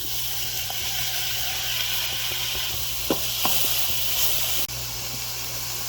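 Tomatoes tipped into a hot pot of onions and celery sizzle with a steady, bright hiss, broken by a few soft knocks and a brief dip near the end.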